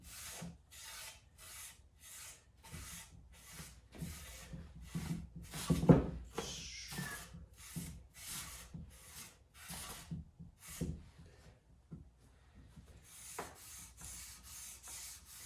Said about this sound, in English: Now we're just rubbing it like sandpaper.